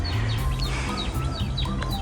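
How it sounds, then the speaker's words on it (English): A small bird chirps repeatedly in quick, bright calls near a canal in autumn, layered over a steady low hum of background noise, with no talking. "Noisy little bloody bird."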